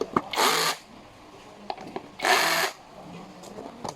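A power drill drives a bolt while an office chair is assembled, two whirring bursts of about half a second each with quieter handling knocks between them, close by.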